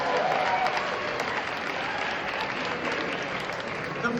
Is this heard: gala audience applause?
yes